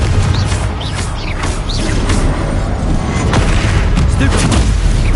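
Spell blasts from Stupefy and Confringo casting in Hogwarts Legacy, a dense run of booming magical impacts and crackles layered with game music and effects, loud and continuous with no clear gaps.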